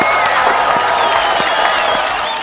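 A studio audience applauds and cheers for the band in a dense, loud wash of clapping and crowd noise that holds steady over a couple of seconds.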